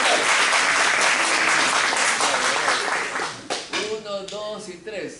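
A science event audience bursts into thick applause that fades after a few seconds, and a voice starts talking as the clapping trails off.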